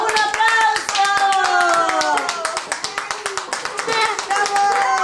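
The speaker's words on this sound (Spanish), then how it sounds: "Ya, un aplauso." At a fourth birthday party, children and adults clap in quick, uneven applause that runs throughout, close and loud, while many voices chatter and exclaim over it.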